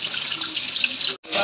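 A kitchen tap runs into a sink while something is being washed, a steady close rush of water that cuts off briefly and then resumes.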